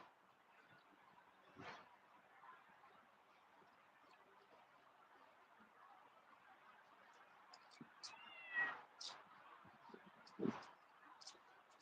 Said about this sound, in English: I hear a little cat meowing somewhere around here.